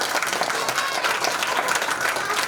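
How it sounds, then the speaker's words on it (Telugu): A church congregation claps in a dense, continuous burst of many hands, close and lively, with a faint murmur of voices underneath. "అందరం చప్పట్లు కొడుతూ"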